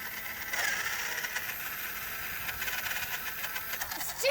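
Small wheels of a remote control toy car spin fast against rock, giving a steady high whir that runs the whole time at close range, with a sharper burst right at the end.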